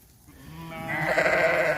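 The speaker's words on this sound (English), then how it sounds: "The sheep are all very curious" A curious sheep in a farm pen being introduced to a bull gives a single rising bleat, close and fairly loud, swelling after a quiet start and holding to the end.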